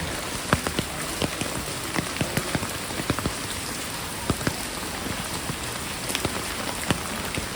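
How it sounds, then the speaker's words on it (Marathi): Heavy rain falling outdoors, a dense, steady patter of drops striking surfaces close by, with scattered louder splats and no voices. "खूप पाऊस येत आहे"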